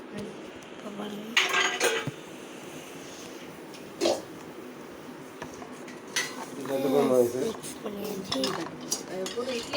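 A spoon clanks and scrapes against a metal pot while a mixture is stirred for idli sambar, with sharp intermittent knocks, a few clinks and soft scraping close by.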